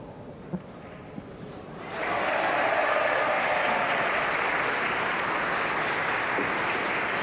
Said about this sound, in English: we've just heard a cheer from table 3